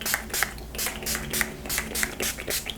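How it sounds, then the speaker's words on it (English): Urban Decay All Nighter setting spray mists out in a run of rapid, hissing bursts, about ten short sprays in quick rhythm, close and fairly loud with no talking. "I'm going to go on ahead and I'm going to put on my setting spray"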